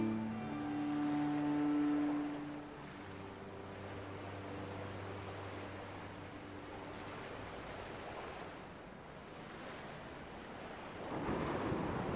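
Ocean waves in the video game Dear Esther wash in as a steady broadband surf with wind, under a low sustained musical drone that fades midway, with a louder swell near the end.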